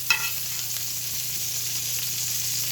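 A turkey burger sizzles in a pan while being basted, giving a steady, soft, close hiss. There is a small clatter at the start, and no talking.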